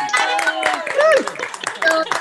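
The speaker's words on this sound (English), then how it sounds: "Everyone turn your cameras on and applaud this group." Attendees of an online medical school graduation ceremony applaud over video call, scattered clapping mixed with overlapping cheering voices, close and fairly loud.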